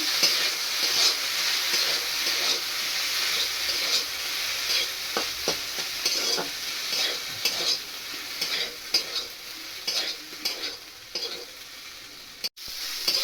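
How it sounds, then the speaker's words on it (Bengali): Pasta frying in a pan with a little butter, a continuous close sizzle broken by stirring scrapes and clicks, ending in a sharp knock, with no talking. "তো আমি এই পাস্তাটা একটু ভেজে নিলাম"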